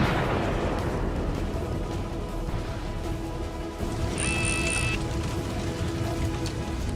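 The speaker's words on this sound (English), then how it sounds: "A powerful explosion rips the APC apart from the inside." An armored personnel carrier struck by a kamikaze drone explodes, heard as a dense, roaring blast of wideband noise that persists for several seconds, with a brief high whine partway through; no speech.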